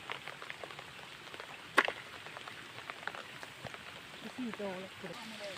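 Rain falls steadily during a rainy-day forage for red crabs and snails in the countryside, a soft continuous patter with scattered drops and a sharp knock near the middle, a voice talking faintly over it near the end.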